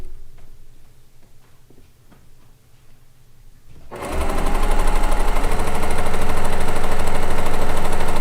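An Elagio ESG3 sewing machine, a model comparable to a 2003 ULT, is silent at first, then starts up partway through into a loud, steady mechanical whir with a fast, even ticking rhythm.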